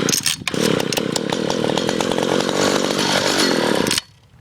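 A Stihl chainsaw catches and roars at a loud, steady high idle for about three and a half seconds, then cuts out abruptly, leaving quiet.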